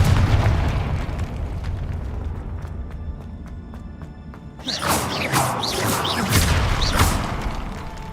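A Confringo spell blast in Hogwarts Legacy lands as a loud booming burst about midway, followed by crackling, shimmering magical effects layered over a dense game soundscape, with no talking.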